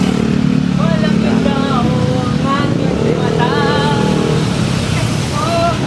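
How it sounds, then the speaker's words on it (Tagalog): Motorcycles and tricycles move through busy street traffic near a Philippine market, with engines droning and whining close by in a steady, loud stream while a person talks over the noise. "Look at the traffic here."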